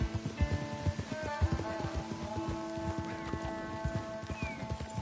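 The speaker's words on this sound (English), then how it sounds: "Let's leave the horses off the road to the right here." Horses clip-clopping along a path in Red Dead Redemption 2, a steady irregular patter of hoof strikes over a continuous bed of ambient tones and music, with faint game sounds underneath.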